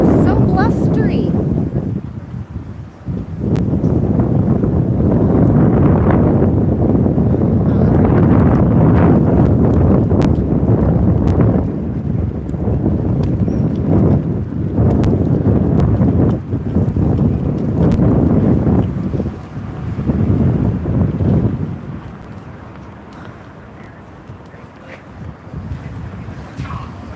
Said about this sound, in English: So blustery.